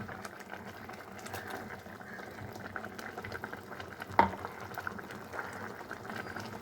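A pot of mango pulissery bubbles steadily at a low simmer with a soft, continuous gurgle, and a single clink sounds partway through.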